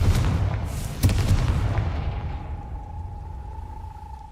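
A single heavy boom from the Confringo fire spell exploding in Hogwarts Legacy, followed by a rumbling decay and a faint steady tone, with no voices.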